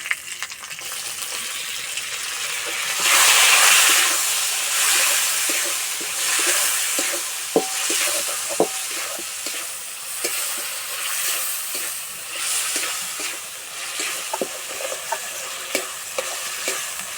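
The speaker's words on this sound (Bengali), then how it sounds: "এবার দেবো টমেটো কুচি" Chopped tomato hitting hot oil for a vegetable dal, a loud hissing sizzle that swells early, then steady frying with repeated close spatula clicks and scrapes as it is stirred, no speech.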